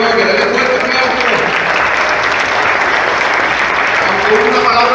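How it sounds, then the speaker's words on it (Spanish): A church congregation at a Sunday service keeps up a loud, dense round of applause, an unbroken wall of clapping with faint voices mixed in. "Denle fuerte aplauso."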